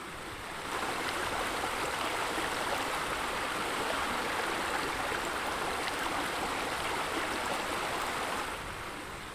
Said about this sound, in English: It might get loud because I'm near this waterfall.